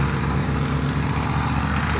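A truck goes by near an outdoor workspace, producing a loud, steady humming engine drone throughout the short stretch, with no voices.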